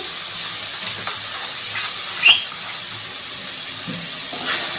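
Ridge gourd peel paste cooks in a pan under a constant soft hiss, with an occasional faint scrape or clink as it is stirred, and no one speaking.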